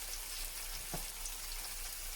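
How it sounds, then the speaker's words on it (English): Beef sirloin steak grilling on a tawa, a continuous soft sizzle and crackle like light rain, close and even, with one brief stir or scrape near the middle and no voices. "Keep grilling on the tawa."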